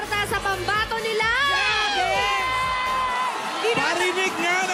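Fans of a singer at a live TV singing contest, a dense crowd of shrill screams and whoops rising and falling together, loud and close, with voices shouting over it.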